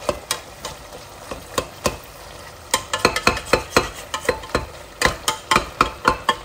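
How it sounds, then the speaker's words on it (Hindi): Carrots for gajar halwa are stirred and mashed in a kadai, making a quick, uneven run of close scraping knocks and clacks as the spoon pushes through the drying mash, with no one speaking. "ऐसे पुश करके हिलाना आसान हो। देखा पानी इसका ड्राई हो गया, अब आपने इसको मैश कर लिया"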